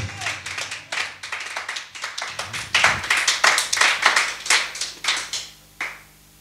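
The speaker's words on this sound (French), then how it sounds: "Est-ce que tu peux acclamer pour Jésus-Christ?" A church congregation applauds in praise at an evangelical service: many hands clapping in a brisk, uneven burst that builds louder midway, then thins out and stops after about six seconds.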